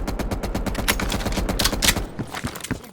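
Heavy machine gun fire in Call of Duty Black Ops Cold War on a Vietnam battlefield, a loud, fast, continuous burst of rapid shots that thins into scattered gunfire near the end.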